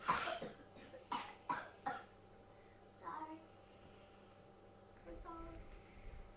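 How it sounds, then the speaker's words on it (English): A child gives a few sharp coughs in quick succession, then softer throat-clearing sounds, fairly close and quiet with little else around them. "now she's gonna be coughing and sneezing and making a spectacle of herself"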